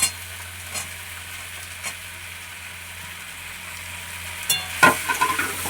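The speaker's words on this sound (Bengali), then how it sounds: "এবারে এটা দিয়ে ভেটকি মাছের কাঁটাটা কষবো।" Bhetki fish bones and green peas frying in a wok, a steady low sizzle with occasional scraping stirs, growing busier with clattering spatula strokes near the end; no voices.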